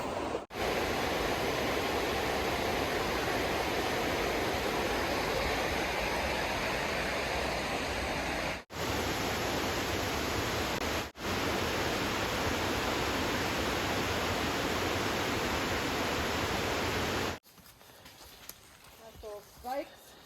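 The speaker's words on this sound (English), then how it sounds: "One nice thing on this trail is all the waterfalls." A waterfall at Sloan Bridge Falls on the Foothills Trail roars as a loud, constant broadband rush close by, cutting off abruptly and leaving quieter outdoor ambience at the end.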